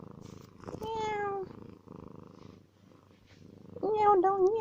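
Lucky the cat gives two loud, drawn-out meows close by, one early and one near the end, with softer rumbling purring and quiet noises between them and no speech.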